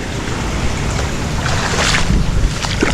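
A boat churns through floodwater with a steady low rumble and rushing water, mixed with wind buffeting the microphone, continuous and close.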